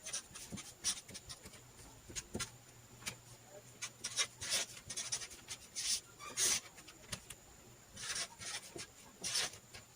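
Pen writing values on paper while working a kinematics physics problem, a close, quiet scratching in short strokes and pauses, with no talking.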